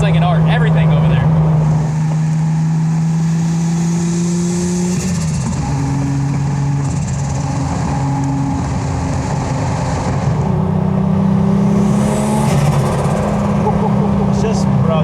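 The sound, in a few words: HKS R34 GTR engine revving on Tokyo highway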